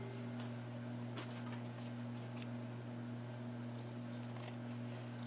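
Scissors snipping through denim from an old pair of pants, a few faint crisp cuts early on over a steady low electrical hum, quiet and close.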